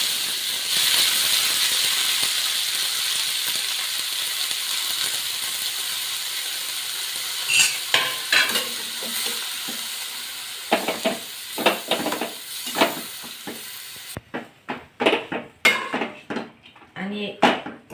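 Fenugreek leaves and garlic are sautéed in a pan, first with a steady hiss, then with a run of sharp metallic scrapes and clinks of a spatula against the pan.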